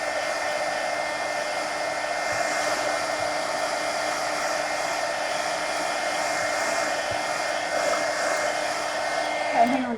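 A hair dryer blows steadily and fairly close for the full stretch, drying freshly coloured manga pages, with a small clunk right at the end.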